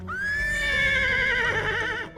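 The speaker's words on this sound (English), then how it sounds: "It's a neigh, but a crying neigh." A single loud, drawn-out video-game horse whinny, wavering and shrill, lasting about two seconds before cutting off abruptly.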